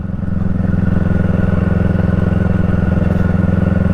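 A Kawasaki Eliminator motorcycle with a Coffman's exhaust idles steadily and close by, giving a loud, even, low throb with no talking.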